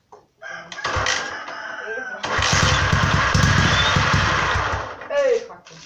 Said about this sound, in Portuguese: Agora eu vou ligar aqui pra vocês ver o barulho original.